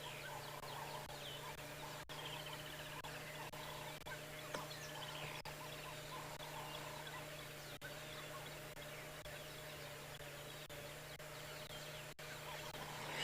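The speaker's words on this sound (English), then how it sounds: "If you listen, all you can really hear predominantly are bird calls." Birds call at dawn on a safari drive, with faint overlapping chirps, whistles and clucking calls scattered across a quiet, steady background hum.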